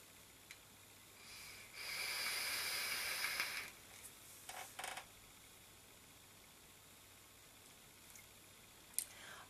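With the bottom airflow opened on a Vaporesso Gemini RTA tank, a soft, airy hiss of about two seconds rises during a draw. A few short faint puffs follow, then a brief tick near the end, all quiet and close.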